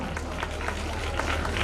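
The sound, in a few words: audience applause at school annual function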